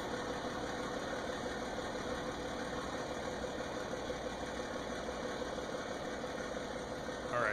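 Tractor engine in the Farming Simulator video game, set in a field, running at a steady even idle-like drone throughout, loud and close with no talk over it.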